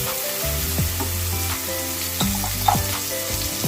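Chopped onions sautéing in a hot pan give a steady close sizzle and crackle, with a few scraping stirs and light clinks, no voices.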